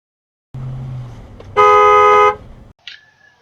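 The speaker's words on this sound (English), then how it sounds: "So I do give her a honk to communicate that I am right there" A single sustained car horn honk, loud and close, lasting under a second amid road noise, followed by a short high electronic tone.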